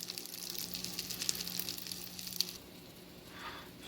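Food sizzling steadily in bacon grease in a pan, a close, continuous frying hiss that eases off slightly toward the end, with no talk.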